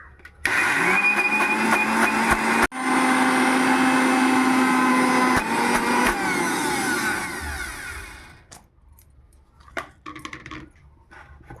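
An electric blender grinds green chilies into a paste in a village kitchen, giving a loud, steady, whining motor roar for about eight seconds with one brief dip before it shuts off into quiet rustling.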